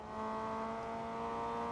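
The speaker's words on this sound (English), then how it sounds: "Such a good sounding engine." A car engine in the racing game Forza Motorsport 2, droning with a steady, harmonic-rich tone at constant revs, fairly faint and heard alone.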